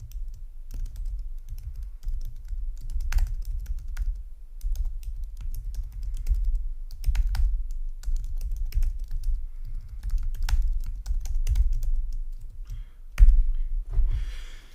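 Rapid typing on a computer keyboard, a dense run of close key clicks and taps continuing throughout with brief pauses.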